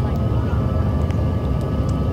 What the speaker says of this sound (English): Aircraft operating this flight, a Bombardier CRJ-900 regional jet.